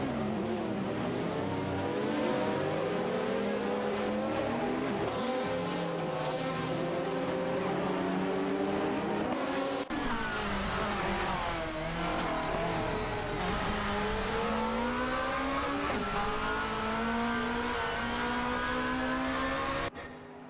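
Race cars from an AI-driven race accelerate hard through a series of turns, engines droning and shifting pitch continuously with steady high-revving tones, loud and close throughout with no break.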